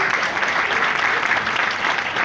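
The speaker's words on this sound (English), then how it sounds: "Round of applause," Steady, dense audience applause fills a public forum on cryptocurrency exchanges at the Jamaica Stock Exchange, a continuous even wash of many hands clapping to welcome a speaker, with no talk over it.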